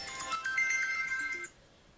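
A mobile phone ringtone rings with a bright electronic melody of sustained tones for about a second and a half, then cuts off, leaving quiet room tone.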